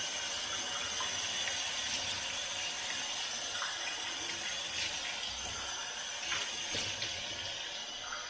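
Tap water runs steadily into a sink during face washing, a continuous close splashing hiss with a few brief louder spatters and no talking.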